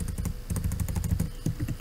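Rapid typing on a computer keyboard, close and crisp keystrokes in quick uneven bursts with no pauses longer than a beat, no voices.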